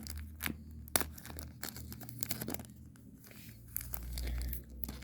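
A football trading card pack is torn open by hand, with crinkly rips and crackles of the wrapper coming in short bursts, close up, with no talking.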